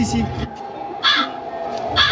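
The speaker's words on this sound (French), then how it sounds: "Et bruit de corbeau." Crow cawing sound effect at a Halloween night event in a theme park, three harsh caws spaced about a second apart, loud and close, over a low background hum.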